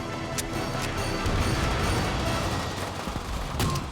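Continuous rattling automatic fire from a Thompson submachine gun in Call of Duty: World at War, a dense, loud, unbroken stream of shots with sharper cracks poking through, no speech.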